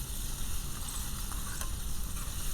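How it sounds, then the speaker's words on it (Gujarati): Onions frying in oil over a traditional village clay stove, a steady close hiss of sizzling throughout with a few faint stirring scrapes, no talking. "ડુંગળીને આપણે થોડી વારે હલાવતા રહીશું."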